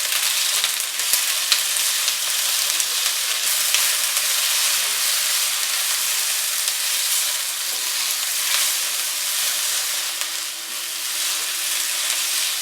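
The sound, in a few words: tomatoes and green chillies frying in a pan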